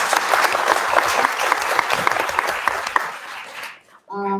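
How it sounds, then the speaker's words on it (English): An audience at an MFA writers showcase at REDCAT claps loudly and steadily for the faculty, the applause dying away near the end before a voice begins speaking. "Can we please get a round of applause for the faculty who just did that?"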